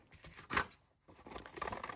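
A couple of short, crisp snips from scissors cutting paper, quiet and close, with faint rustling around them.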